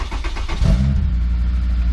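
A cold Honda S2000 with a previously faulty starter gives a brief, quick crank before the engine catches and settles into a loud, steady idle close by.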